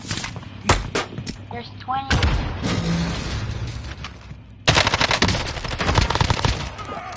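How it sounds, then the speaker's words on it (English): Gunfire from Warzone Zombies crackles in rapid automatic bursts and single shots, some near and loud, others farther off, broken by a short lull, with a player talking over the shooting. "I'm getting shot at from 12 different teams right now."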